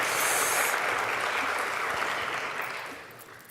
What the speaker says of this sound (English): How about a round of applause for Danielle Rose?